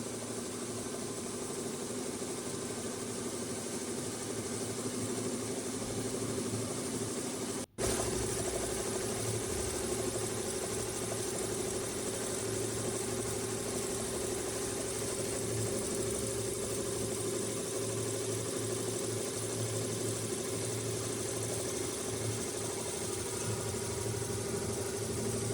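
An automatic computer embroidery machine stitching a cap in a manufacturing unit runs with a steady, even mechanical hum and rapid whirring, constant throughout apart from one brief click, no talk.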